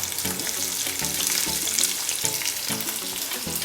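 Sliced onions sizzle and fry in hot oil in a pan for a vegetarian korma, a steady close crackle with stirring scrapes throughout and no voices.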